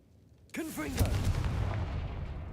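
A Confringo fire spell cast in the Hogwarts Legacy game bursts in with a loud blast and rolling explosive rumble, preceded by brief whooshing sweeps, while a voice talks over it.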